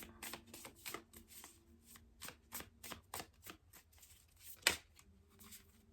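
Tarot cards are shuffled close up in a quiet room, making a rapid series of crisp riffling flicks and soft slaps with one sharper snap near the end.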